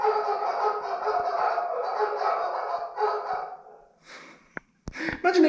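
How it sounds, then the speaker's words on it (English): A doorbell chime plays a recording of dogs barking, a run of muffled repeated barks for about four seconds, then stopping, followed by a few brief clicks and knocks nearby. "dogs barking."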